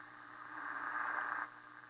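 A 1932 Emerson 25A radio gives a faint hiss of static and broadband noise while being tuned, swelling briefly for about a second before falling back to a low steady wash.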